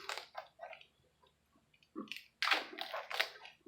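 Plastic and cardboard packaging of a Roku Ultra being unwrapped up close, with bursts of crinkling, crunching and tearing separated by short quiet pauses, growing busier toward the end.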